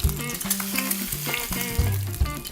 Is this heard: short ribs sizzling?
yes